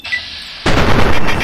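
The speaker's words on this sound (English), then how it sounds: "I think they're throwing grenades as well." Grenade blasts from a firefight in Fallout 3 at the Gibson house hit abruptly after a quiet stretch, leaving a loud, dense, roaring burst that stays strong until the clip ends.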